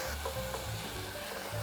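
Sausage with onion and garlic sizzles in a pan while being stirred, a continuous close crackle with soft scraping strokes and no talking.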